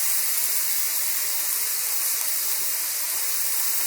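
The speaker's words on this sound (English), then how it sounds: "I chopped 1 big white onion, and now I am going to saute it until it's golden brown." Chopped white onion sautéing in a pan, a steady bright sizzle and hiss that runs evenly without pause.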